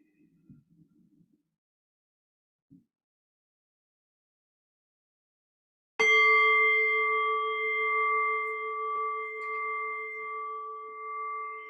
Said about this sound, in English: then I'll ring the bell and I'll guide us in.